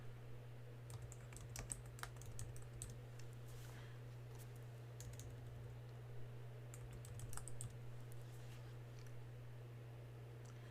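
Computer keyboard typing a folder name, a soft, close patter of keystrokes in short clusters over a steady low electrical hum.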